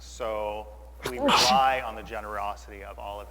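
A single sharp sneeze near the middle, breaking into a man's speech at a virtual charity gala, with his talking continuing before and after.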